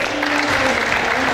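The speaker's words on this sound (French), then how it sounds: "Merci de les applaudir bien fort" Loud, dense applause from a pageant audience greeting the candidates, a steady wash of clapping throughout.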